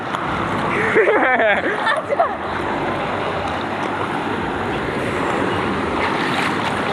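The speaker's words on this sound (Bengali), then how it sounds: "এই কিন্তু দেখতে পাচ্ছ ঢেউ, জাস্ট এই যে এরকম নর্মাল জাস্ট ঢেউ একটা ছোট।" Small waves wash through a water park wave pool as a constant broad rush of water, with voices briefly audible near the start before the surf noise continues on its own.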